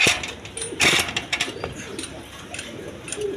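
A pair of Indian Bombai pigeons coo softly close by, their low murmurs mixing with flutters and brief sharp rustles, with no voices heard.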